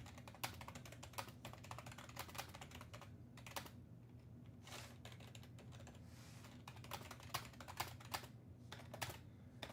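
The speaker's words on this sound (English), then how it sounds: "You're hearing me typing." Rapid keystrokes clatter on a computer keyboard in uneven bursts with brief pauses. The sound is close and faint, over a low steady hum.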